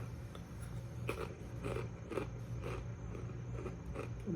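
Crunchy chewing of North Fork rosemary and garlic kettle cooked potato chips, a run of close, repeated crisp bites and munching over a steady background hum.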